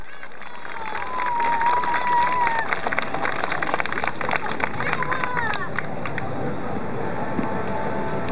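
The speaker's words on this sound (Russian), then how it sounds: "Ваши аплодисменты." Outdoor crowd at a summer bridal parade concert in Minsk applauding with scattered cheers and whistles, a steady wash of clapping under open-air hubbub that holds evenly throughout.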